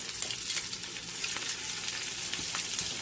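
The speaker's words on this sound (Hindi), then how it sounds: "ऑयल जो है वो हॉट हो गया है, तो अभी हम इसमें इसको डाल के मीडियम फ्लेम पे" Mutton pieces frying in hot oil over a medium flame, giving a dense, steady, crackling sizzle with faint pops, close and alone.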